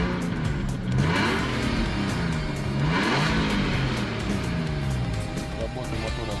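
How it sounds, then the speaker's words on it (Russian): An Infiniti engine, a used unit for G, M, EX/QX50 and FX/QX70 models, runs steadily and loudly throughout, its tone rising and falling as it is revved, with no talk over it. "Также имеется видеообзор работающего двигателя."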